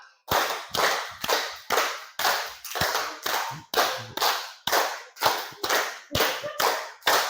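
A group claps hands in unison, with sharp, close, synchronized claps in a steady rhythm, grouped in fives and repeated three times, each with a short room echo.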